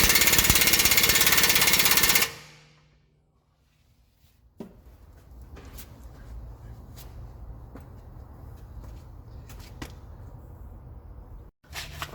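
A large impact gun hammers loudly at a rear hub bolt on a 2009 BMW 750i for about two seconds, then cuts off, leaving quiet garage noise with faint scattered clinks.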